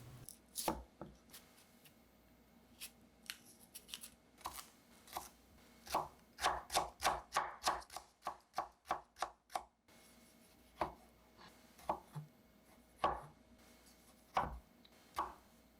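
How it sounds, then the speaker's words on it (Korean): A knife chops cucumber and cherry tomatoes on a cutting board for a cold soybean noodle soup garnish, crisp sharp strikes in bursts, with a quick rhythmic run of about a dozen cuts midway, close and alone. "고명으로 들어갈 오이와 방울도마도도 썰어줍니다."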